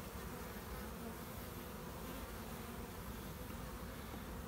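Honey bees hum around an open hive box in a dense, continuous buzz, a steady swarm drone that fills the space evenly without any voice.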